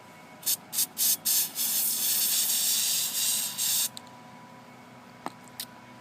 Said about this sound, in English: I'm going to spray it on a piece of unprepared scrap metal